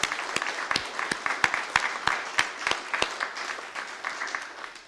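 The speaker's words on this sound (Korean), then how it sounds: "우리 청년부 위해서 박수하겠습니다." A church congregation claps for the youth group, a steady room-filling applause with crisp individual claps standing out, holding moderately loud before easing slightly toward the end.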